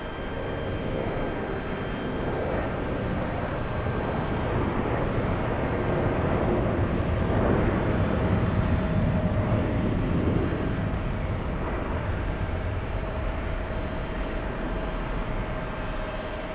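A Delta Boeing 757 jet airliner bound for San Francisco roars steadily and loudly throughout, a broad continuous engine rumble with no talk over it.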